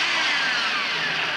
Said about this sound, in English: we're now drilling into the aluminium frame exactly on the line